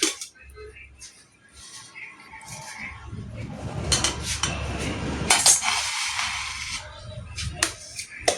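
A utensil scrapes and cuts excess cream from the sides of a Baby Boss theme cake, giving irregular clinks and taps of metal on a board and turntable, close up and moderately loud.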